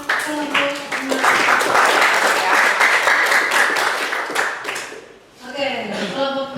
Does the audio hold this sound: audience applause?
yes